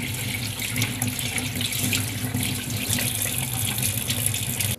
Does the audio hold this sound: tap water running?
yes